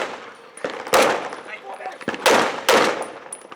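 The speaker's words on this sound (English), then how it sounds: "Let's give him covering fire" Sharp bursts of gunfire crack out at close range at a WWII reenactment, several rapid volleys of machine-gun covering fire, with shouting between them.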